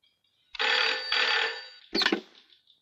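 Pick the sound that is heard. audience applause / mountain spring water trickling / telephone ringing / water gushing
telephone ringing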